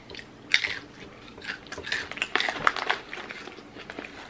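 Close, crisp crunching of corn nuts being chewed, a string of irregular crackly bites with no talking.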